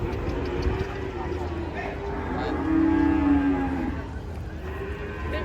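An angry cow lets out a loud, sustained moo midway while being unloaded from a truck, surrounded by a noisy crowd and steady background chatter.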